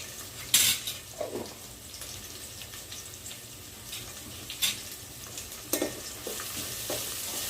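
Ginger garlic paste and curry leaves sizzle softly in a pan while a spoon clinks and scrapes against the metal now and then, with several sharp utensil knocks spread through the stretch and no talk.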